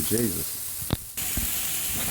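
Food sizzles on a Weber Q barbecue grill, a steady broadband hiss that persists, briefly broken by a man's short exclamation at the start.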